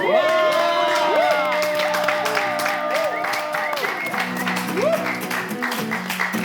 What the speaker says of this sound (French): Je veux vraiment qu'on applaudisse pour accueillir notre bébé Lékou Manu.